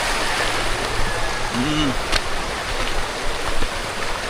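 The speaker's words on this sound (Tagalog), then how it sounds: "may ganito din ba kayong sapa sa inyo? Yung mga ganyang kalinaw pa?" A clear, unpolluted creek flowing steadily, its broad watery rush continuous and fairly close throughout, with a brief faint voice-like murmur partway through.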